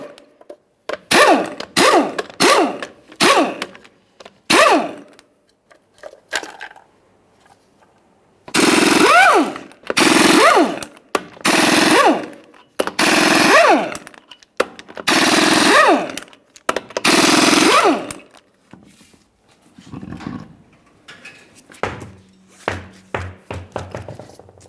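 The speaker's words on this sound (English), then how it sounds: "We can remove that with a 22mm and then all of our 22mm lug nuts as well." Impact wrench removing 22mm lug nuts and the center cap from a 1996-2006 Chevrolet Silverado 1500 wheel: loud, close, rattling hammer bursts, several short ones, then a run of longer bursts separated by brief gaps.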